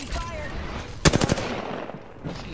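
Automatic gunfire bursts loudly in an arena video game, a rapid volley of several shots near the middle over a busy game soundscape.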